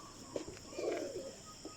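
Breeder pigeons coo softly in a low, close murmur, with one longer rolling coo in the middle and a few short calls before and after, over a steady background hiss.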